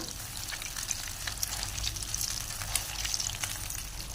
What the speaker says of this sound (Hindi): थोड़ी सी मीडियम आँच से फ्राई करेंगे।